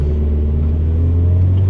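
A Renault Clio 4 RS Trophy engine gives a loud, steady roar with deep low rumble, held close and constant throughout with no talking.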